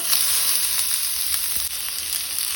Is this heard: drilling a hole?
no